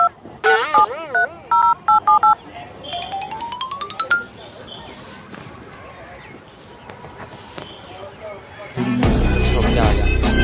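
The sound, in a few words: dialing tones on a borrowed mobile phone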